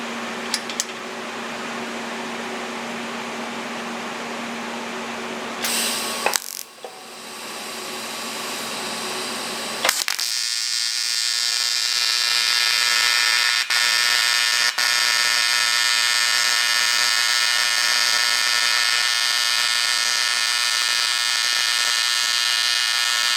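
A ProTIG 200 TIG welder runs at 200 amps. A steady buzzing hum shifts after a brief break into a loud, sustained, bright hiss and crackle of the arc that holds evenly to the end.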